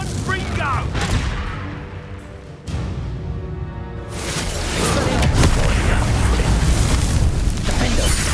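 Confringo fire spell blasts in the Hogwarts Legacy video game, a loud rumbling explosion followed by sustained roaring bursts and crackling fire, dense and continuous, with a brief drop before the blasts resume.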